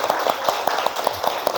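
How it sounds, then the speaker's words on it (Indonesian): Applause from an audience at a teacher-training session in Indonesia, a dense steady patter of many hands clapping at close range, running evenly throughout. "Tepuk tangan untuk kita semua."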